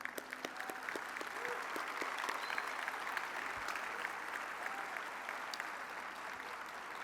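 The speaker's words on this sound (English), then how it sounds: "Let's give them one final round of applause, please." An audience at a conference panel session gives a sustained round of applause for the panelists. The clapping is dense and even but fairly quiet, heard from a moderate distance.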